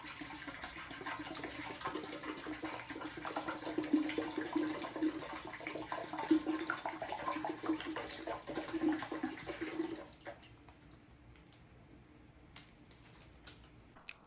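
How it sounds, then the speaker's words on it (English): Descaling solution being poured from its bottle into the empty water reservoir of a Keurig K-Supreme Plus coffee maker, a steady close splashing pour that runs for about ten seconds and then stops, leaving a faint quiet room tone. "How we're going to pour in our descaling solution, we're going to use the entire bottle."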